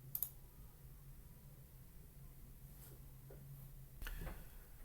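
A computer mouse gives one sharp, faint click while an entity is verified in an annotation interface. A low room hum follows, then a second soft click.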